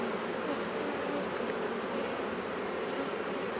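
Honey bees buzz steadily inside a hive after a swarm trap-out at Gilford Lake, a dense, continuous hum close by with no voices and no breaks.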